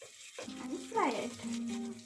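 Garlic hits hot oil in a pan over a flame with a short, soft sizzle and a brief louder spatter, heard faintly and close.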